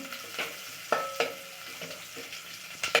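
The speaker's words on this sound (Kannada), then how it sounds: "ಒಂದು ಎಷ್ಟು ಬೆಳ್ಳುಳ್ಳಿ ಒಂದು ಸಣ್ಣ ಈರುಳ್ಳಿ ಸಾಸಿವೆ ಕರಿಬೇವು ಸೊಪ್ಪು ಇದು ಒಂದು ನಿಮಿಷ ಚೆನ್ನಾಗಿ ಫ್ರೈ ಮಾಡ್ತಾ ಇದ್ದೀನಿ" Garlic, small onion, mustard seeds and curry leaves fry in hot oil, a soft sizzle broken by scattered crackles and stirring clatters at uneven intervals, fairly quiet and close, with no talking.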